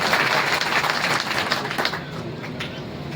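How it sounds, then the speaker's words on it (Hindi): An audience at a public development inauguration event bursts into loud, dense applause that fades and thins out over a few seconds. "ताली बजा दीजिए जरा।"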